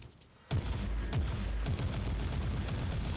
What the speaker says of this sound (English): Bolt guns are lovely. We love bolt guns.